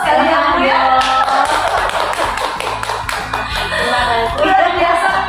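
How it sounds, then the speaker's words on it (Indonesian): Applause for Bu Ani at a teachers' education event: many hands clapping steadily and fairly close for several seconds, with a voice briefly heard under the clapping. "Ini luar biasa sekali Bu Ani, kita perlu aplaus sekali ya."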